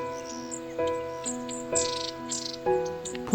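Mountain birds foraging after heavy snowfall give repeated bright chirps and tweets at close range, several short calls spaced a second or so apart.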